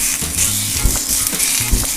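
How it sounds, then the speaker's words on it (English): A pound of breakfast sausage fries in a little oil over medium heat, giving a loud, close, continuous sizzle broken by scraping and stirring as the meat is broken into pieces in the pan. "we're just going to fry that down and kind of break it up"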